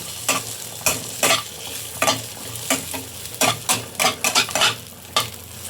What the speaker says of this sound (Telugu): పచ్చివాసన పోయే వరకు ఇలా ఫ్రై చేసుకొని